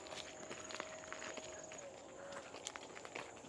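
Footsteps of someone walking uphill on a mountain slope in a landslide-struck area, faint soft steps repeating in a steady rhythm over outdoor noise, with a thin tonal whine in the background.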